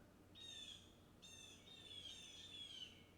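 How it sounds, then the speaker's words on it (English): Birds call outdoors, a faint thin whistle repeated in two or three long drawn notes, distant and clear over a quiet low background hum. "the birds are literally insane right now outside."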